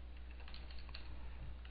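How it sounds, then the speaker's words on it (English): Soft, rapid keystrokes on a computer keyboard while writing an SQL query, a faint, steady patter of clicks under a low hum with no talking. "I'm just typing everything on one screen"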